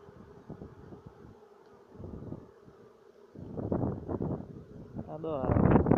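A low, steady buzzing of many honeybees at the hive hums throughout, with a person speaking over it toward the end.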